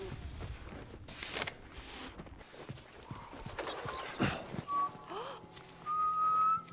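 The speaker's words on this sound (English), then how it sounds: "I'm whistling!" Ellie whistling in The Last of Us video game, thin wavering tones rising and falling near the end, after clip-clop of horse hooves and background game sounds.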